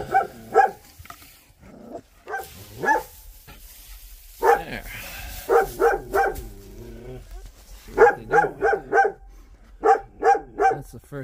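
Puppies on a farm give short bursts of high yips and barks in quick clusters, fairly close, with quiet gaps between the bursts.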